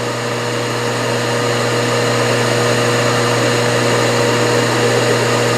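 A milling machine turns a 3/4 inch four-flute TiN-coated end mill through a cautious ten-thousandths-inch cut on a scissor knurl part, giving a steady, close, fairly loud mechanical drone with a constant tonal whine and no pauses or voices.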